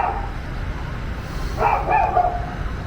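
A dog barks a couple of times in a back yard, short sharp yips near the end over a quiet outdoor hum, moderately close.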